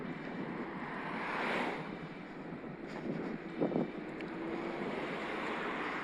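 Strong headwind buffeting a microphone while cycling uphill on a country road, a steady broadband roar that swells and gusts throughout with no talk.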